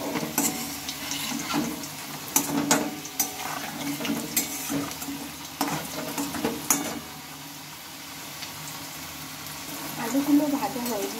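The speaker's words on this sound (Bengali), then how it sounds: "লবণ দিয়ে একটু ভালোভাবে আমি মিশিয়ে নেব" Fried potatoes being stirred with salt in a pan of hot oil, giving repeated scraping and clattering strokes over a steady, soft sizzle, up close and moderately loud with no talking.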